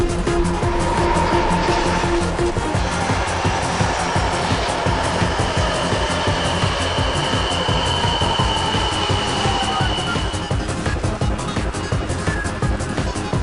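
A Sapporo subway train running toward Makomanai, loud and continuous with a rumbling roar, rattling wheels and high whining screeches of the rails, heard up close from inside with no talk.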